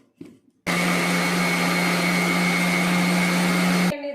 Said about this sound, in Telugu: ఇప్పుడు మిక్సీకి వేసుకుందాం